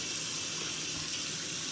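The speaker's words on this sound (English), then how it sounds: "I'm not washing them, I'm just putting the water in" Water pours steadily and loudly from a kitchen tap as it is added to food for cooking, a continuous close rushing hiss with no talking.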